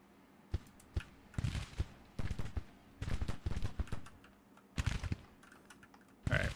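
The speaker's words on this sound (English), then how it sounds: "just in time for the gunshots to start" Gunfire crackles from a Civil War battle in the video game Grand Tactician, with irregular sharp bursts and volleys that cluster and pause across the clip, fairly faint and without speech.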